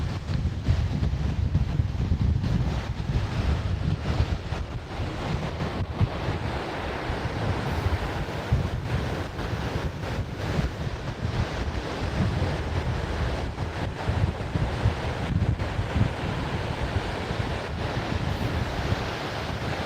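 Stormy sea waves roll onto the beach at Anapa under strong wind, a loud continuous roar of surf and gusting wind buffeting the microphone throughout, with no voices.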